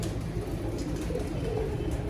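Pigeons, a cross of two bred lines in a fancier's loft, coo softly and continuously as a low burbling murmur, several birds overlapping close by.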